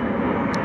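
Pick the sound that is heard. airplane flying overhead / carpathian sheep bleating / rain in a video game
airplane flying overhead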